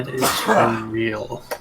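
A person sneezes during a tabletop role-playing game session, with a sharp burst near the start and another near the end, amid ongoing talk.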